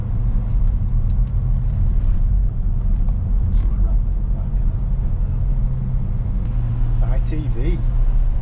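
A cold Audi Q7 with a V12 engine idles steadily with a loud, low, even drone throughout, and voices can be heard faintly over it.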